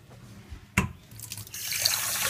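Water from a test of an MGB's thermostat is poured away into a sink, starting with a sharp knock, then a light trickle that builds into a steady louder rush of running water.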